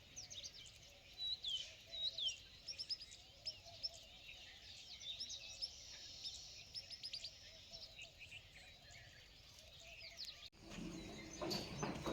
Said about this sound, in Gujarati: પક્ષીનો અવાજ સંભળાતો હોય એટલી મજા આવે ને જુઓ તમે સાંભળો